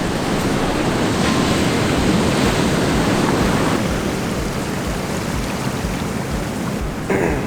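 Steady roar of incoming tide waves washing onto the shore, continuous and loud, with wind noise across the microphone and no voices.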